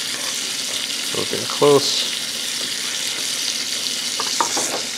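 Scallops fry in a hot pan, giving a steady, loud sizzle with scraping stirring strokes on top, while a person says a brief word close by.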